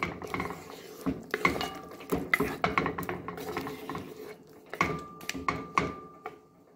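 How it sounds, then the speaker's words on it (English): Spoon stirs a steamed barracuda fish medley in a cooking pot, giving repeated close metallic scrapes and clinks in an uneven rhythm, moderately quiet with no talk. "Give that a nice little stir."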